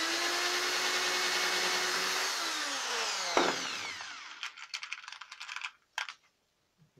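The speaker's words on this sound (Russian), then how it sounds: "у меня один шуруповерт как дрель" A cordless screwdriver working as a drill on a wooden beehive roof whirs steadily, then its motor pitch winds down as it stops, leaving scattered clicks and knocks before silence.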